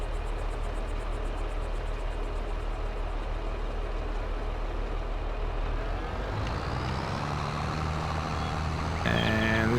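A vehicle with a manure trailer in Farming Simulator 22, engine droning steadily and loudly throughout, with a change in tone and beeping near the end as it reverses.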